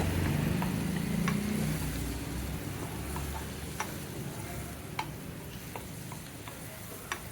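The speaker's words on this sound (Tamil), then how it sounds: "நல்லா கிளறி விட்டுக்குங்க" Onions sizzle steadily in a pan with turmeric for salna while a utensil stirs and scrapes, with sharp ticks and clinks against the metal.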